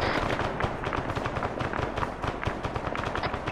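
Dense, rapid gunfire fills a video game battle, with overlapping automatic bursts and sharp cracks crackling continuously and loudly without a break.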